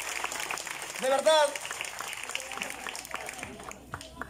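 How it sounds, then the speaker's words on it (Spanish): A crowd claps for Michel, a mayoral candidate, at a political party presentation. The applause is fairly soft and sits under a voice speaking Spanish. "Un fuerte aplauso a nuestro candidato alcalde Michel, por favor."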